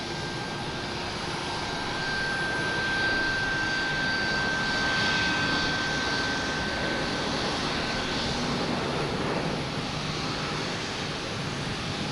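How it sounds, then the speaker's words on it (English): A WestJet jet airliner arriving from Vancouver on approach to Boston Logan, its engines a steady broad roar that swells in the middle and holds on, with a thin whine running over it and no voices. "We have WestJet here coming in from Vancouver."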